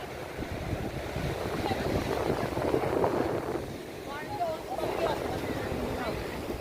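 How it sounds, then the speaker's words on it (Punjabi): Sea waves wash and roll steadily onto the shore at Manly Beach, Sydney, with gusting wind buffeting the microphone and faint voices in the background. "ਲਓ ਜੀ ਦੇਖੋ ਛੱਲਾ ਵੇਖੋ"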